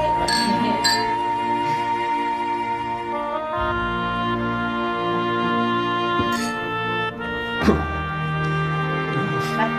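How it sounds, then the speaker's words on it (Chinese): Glasses clink together in a toast, a few bright, brief chimes heard over sustained background music. "干杯！"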